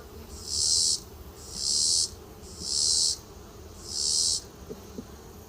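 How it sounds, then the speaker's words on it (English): Honey bees buzz around an open hive during a September hive check, four loud swelling bursts of buzzing with short lulls between, heard up close. "Bees covered in pollen baskets here."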